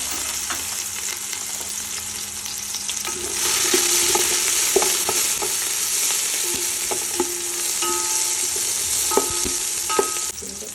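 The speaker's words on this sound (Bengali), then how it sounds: "আমরা একটু তেল দিয়ে নিলাম তেল বেশি দিয়ে নিই আমি রান্নাতে তেল খুব কম ব্যবহার করি পেঁয়াজ দিয়ে দিলাম" Onions sizzle in hot oil in a pan while cooking biryani, a steady frying hiss that turns louder partway through, with occasional stirring clicks and scrapes and no talking.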